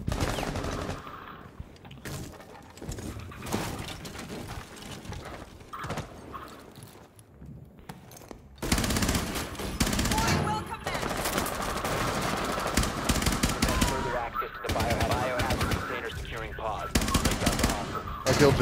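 Gunfire in the video game Rainbow Six Siege rattles in dense, loud automatic bursts, growing heavier partway through, with players talking over the shooting.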